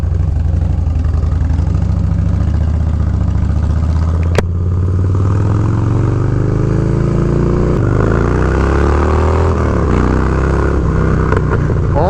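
Harley-Davidson Dyna Low Rider motorcycle engine with a new Arlen Ness air cleaner, idling steadily and close up, then revving up and down several times in a deep, loud, continuous rumble with no talking.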